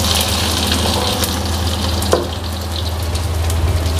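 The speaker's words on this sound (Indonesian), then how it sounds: "Nah ini Mak lanjut goreng cabenya." Chili peppers fry in a pan in a home kitchen, a steady close crackling sizzle with a low hum beneath and a single faint clink partway through.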